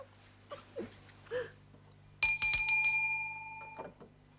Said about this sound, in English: Will you ring the bell for me?